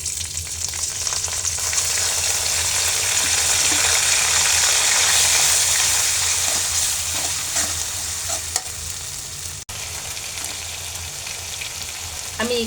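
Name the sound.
frying ground ginger, onion and green chili for hilsa curry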